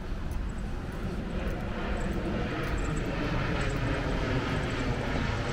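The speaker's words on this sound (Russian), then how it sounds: "Но это вы слышите пролетающий самолет" A passing airplane heard in Ville Saint-Laurent, Montreal, as a steady, loud broad roar that holds evenly for several seconds with no clear start or fade.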